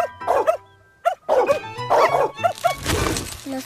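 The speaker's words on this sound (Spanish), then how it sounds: "Los ladridos de los perros." Dogs barking in a park, several sharp yaps and barks in bursts with short pauses, fairly close and loud, with a little whimpering mixed in.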